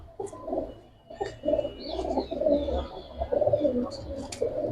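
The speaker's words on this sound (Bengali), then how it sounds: "এটা কিন্তু উড়ানো কবুতর" Giribaz silver flying pigeons at a pigeon market give soft, low, repeated cooing close by, with faint voices talking in the background.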